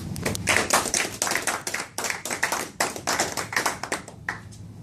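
A smaller group at a boot camp closing ceremony claps, individual hand claps distinct in an uneven, lively rhythm, fairly close and loud.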